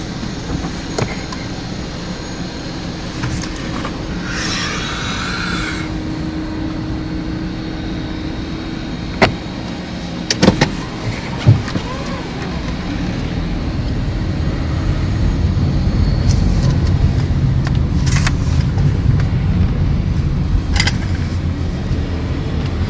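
A car sits inside an automatic car wash while low machinery rumbles steadily. Scattered knocks and thumps come through, and a heavier rushing wash builds toward the end.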